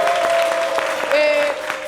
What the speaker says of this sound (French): Merci d'applaudir le groupe EDEC.